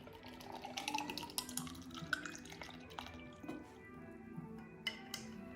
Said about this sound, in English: So we take this liquid and put inside.